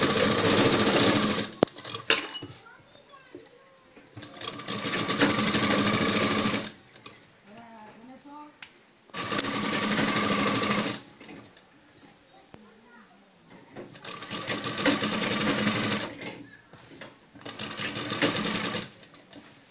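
Sewing machine stitching around the neckline of a dhoti dress, loud rapid whirring bursts of several seconds each, separated by pauses filled with someone talking.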